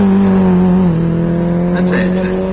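Race car number 601 drones past the start/finish line at an amateur race in Gründau, a steady engine tone shifting slightly in pitch, near and loud, with commentary talk running over it.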